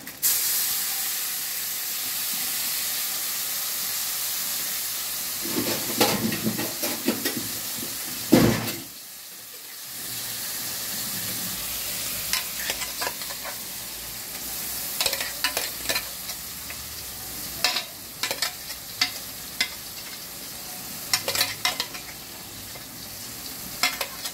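Ground spice paste frying in a pan for soya chaap, stirred with scraping strokes over a steady hiss of sizzling, with a short quiet gap midway before the stirring and sizzle resume.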